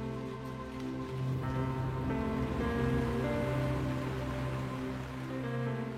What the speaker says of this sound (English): As rain starts to fall, Nikolai waits.